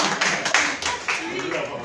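Brief applause from a small round-table audience: a few seconds of scattered clapping blended with talk, moderately loud and close.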